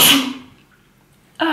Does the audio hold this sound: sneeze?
yes